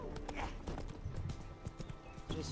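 Horse hooves clip-clop across the ground in The Witcher 3: Wild Hunt, a steady close rhythm of hoofbeats with faint game ambience and no talk over it.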